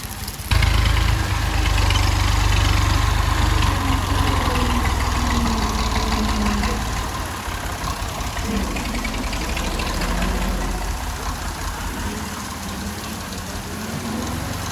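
A tractor pulling a trolley runs along a flooded village road in heavy rain, its engine a steady low idling rumble that stays loud throughout and eases slightly after about seven seconds, with rain and water noise mixed in.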